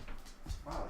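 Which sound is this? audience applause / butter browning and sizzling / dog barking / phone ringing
dog barking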